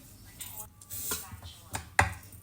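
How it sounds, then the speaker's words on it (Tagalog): A knife slices cucumber into small pieces on a board, giving a few sharp, distinct cutting taps spaced irregularly, close and fairly loud against a quiet kitchen background. "I-slice muna natin. Ng ganyan lang."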